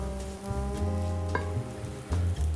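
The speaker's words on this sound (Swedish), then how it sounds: "Sen är det bara att steka det här tills det fått fin färg och riktigt knaprigt." Breadcrumbs fry in a pan until crisp for a spaghetti dish with chanterelles, white wine and parmesan, giving a steady close sizzle with some low clattering stir sounds and no talk.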